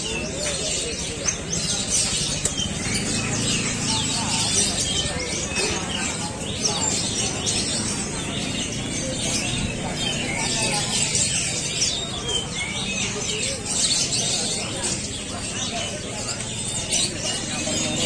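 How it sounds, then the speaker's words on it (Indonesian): Small songbirds such as sooty-headed bulbuls, Javan munias and ciblek prinias chirp at a traditional bird market in Sukoharjo, with dense, continuous overlapping tweets and calls amid crowd bustle and nearby voices. "Di sini khusus burung-burung kecil, ada burung sertu, ada burung perencak,"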